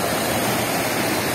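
The Los Siete Chorros waterfall in Yecuatla, Veracruz, roars as a steady, dense rush of falling water, loud and close, with no voices.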